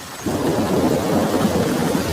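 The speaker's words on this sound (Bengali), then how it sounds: "চারপাশে তখনও মুসুলধারে বৃষ্টি প্রতিটি বজ্রপাত যেন কাঁপিয়ে দিচ্ছে পরিবেশটাকে" Thunder rumbles low and loud over a steady roar of heavy downpour, the storm swelling in after a brief quieter moment and continuing unbroken.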